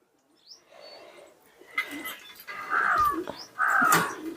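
Crows calling near a home during a shraddha food offering, with harsh caws rising over a softer cooing bird in the background, several loud calls close by toward the end.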